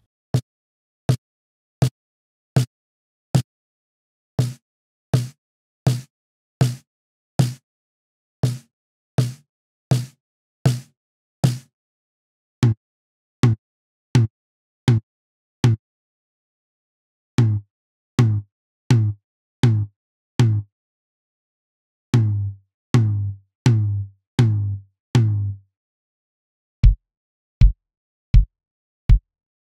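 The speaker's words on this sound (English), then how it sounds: "Let's move through single hits on the snare, the rack tom, and the bass drum, and go through a few different settings on the gate" Single gated drum hits on snare, rack tom and bass drum strike one at a time in evenly spaced groups, each hit cut off abruptly by the gate, with the decay length changing from group to group, dry and close.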